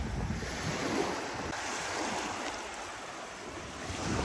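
Steady roar of high-tide sea waves washing onto the shore at Tigbauan, Iloilo, Philippines, mixed with wind buffeting the microphone, continuous and fairly near with no voices.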